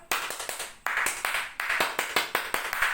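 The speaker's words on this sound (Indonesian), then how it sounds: "Oke, tepuk pramuka." Indonesian scout rhythmic clapping (tepuk pramuka), a patterned sequence of sharp, close hand claps in quick groups with short pauses between them, loud and clear with no voices over it.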